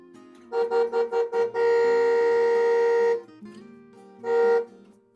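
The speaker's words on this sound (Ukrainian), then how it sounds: "Так сигналять машини." A car horn honks in four quick short beeps, then one long sustained blast, followed by a final short honk, loud and close.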